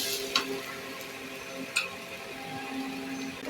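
Dodka dhapate, a ridge gourd flatbread, roasts on a hot tawa with a soft, even sizzle and a couple of brief clicks from handling.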